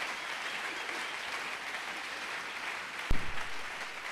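Congregation at a church gathering applauding steadily, a broad sustained wash of clapping with a sharp thump near the end.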